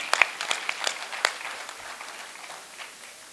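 An audience at a large convention claps briefly, with scattered, fairly faint applause that thins out and fades within a few seconds.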